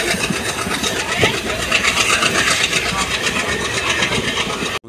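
Amritsar Express train rumbles at Hisar Junction railway station, a continuous close mechanical roar with clattering underneath and people talking nearby, cutting off abruptly at the end.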